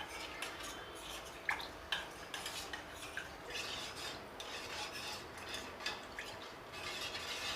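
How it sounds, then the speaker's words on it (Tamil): Ragi malt drink with sugar being stirred in a pot on the stove, a faint, close, continuous scraping and clinking of a spoon against the pot. "இது இப்படி அடுப்பில் வச்சோன்னா ஸ்டிர் பண்ணிகிட்டே இருங்க."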